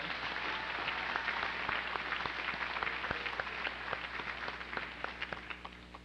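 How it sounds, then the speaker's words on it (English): A commencement crowd applauds an associate vice president joining the platform, a broad, moderately loud patter of many hands that thins and tapers off toward the end. "A nice round of applause to Associate Vice President Nancy Salvidio"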